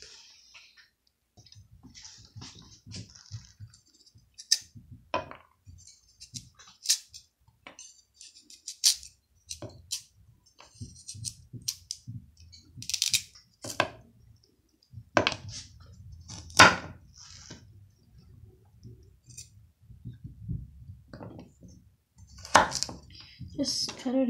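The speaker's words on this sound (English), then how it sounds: "Now the carrots have to be cut into teeny tiny little pieces." Carrots are chopped into tiny pieces on a board, a string of quiet irregular knife taps and clicks with pauses, fairly close, amid faint background noise.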